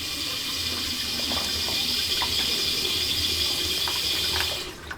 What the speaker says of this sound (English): Watch what happens when I run the sink.